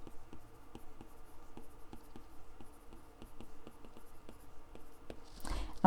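Pen writing a math problem on paper during an inverse functions lesson, a quiet, close series of rhythmic scratching strokes with short taps throughout, and a brief louder rustle at the very end.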